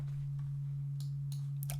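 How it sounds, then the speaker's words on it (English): A steady low sine tone hums without change throughout, pure and constant, with a few faint clicks near the end. "The first one will just be a simple sine wave"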